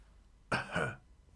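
A single short, soft, polite cough imitated by a person's voice, a brief throat-clearing burst in an otherwise quiet setting.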